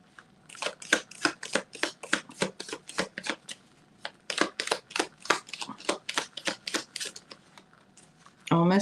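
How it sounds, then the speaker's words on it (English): Cards being shuffled in a rapid series of crisp riffling bursts, close and clear, with a short pause midway. "And shuffling is fun for me."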